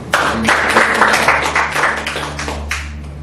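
A church congregation applauds during a Sunday morning worship service, a dense burst of many hands clapping at close range that keeps a steady level for a few seconds over a low background hum.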